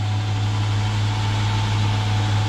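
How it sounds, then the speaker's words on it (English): A Ford Ranger pickup with a 4.0 V6 swapped in for the original 2.8 V6 runs at a steady idle close by, a constant low hum with an even engine drone and no voices. "So I believe we have a good running engine."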